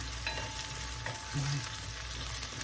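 Ingredients for shrimp ginataan, with lemongrass among them, sauté in a pan and give a steady sizzle and hiss throughout, with a brief stir or scrape near the middle.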